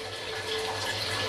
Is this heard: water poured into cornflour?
yes